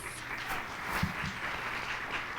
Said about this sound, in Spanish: les pediría un aplauso para los tres, que es Luis,